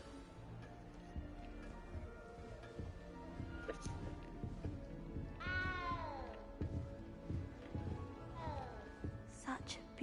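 In the Hogwarts Legacy video game, a cat gives a couple of short meows partway through, faint and set under game music and character dialogue.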